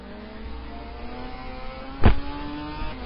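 Race car engines in the GTR Brasil racing video game, at a Londrina circuit round, hum as a low, steady drone turned down in the mix, broken by one brief loud knock near the end.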